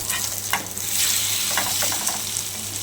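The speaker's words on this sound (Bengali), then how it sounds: "তারপর ওই একইভাবে আবারও অমলেটগুলো ভেজে নিচ্ছি।" Omelettes frying in oil in a frying pan give a steady close sizzle with a few soft spatula taps and scrapes, continuous throughout with no talking.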